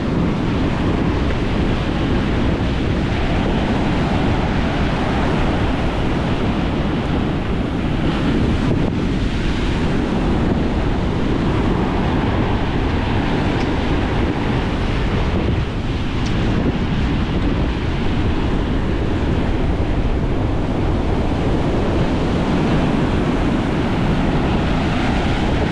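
Storm surge waves pound a shore lined with houses as strong wind roars across the microphone, a loud, continuous wash of surf and gusts with no talk.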